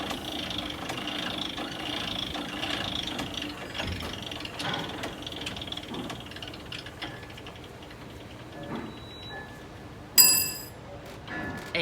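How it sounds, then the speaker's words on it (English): A yarn wrap reel's measuring wheel turns with soft mechanical ratcheting and clicking, then a single sharp bell-like ding rings out near the end, close and clear. "This is the machine that goes ding."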